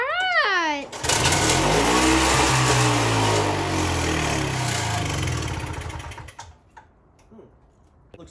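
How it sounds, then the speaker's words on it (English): A small two-stroke engine on a repair bench catches after a short pull-start squeal, runs loud and raspy for about five seconds, then sputters and dies, leaving a few faint mechanical clicks. "what happens if the engine starts, but then it cuts out"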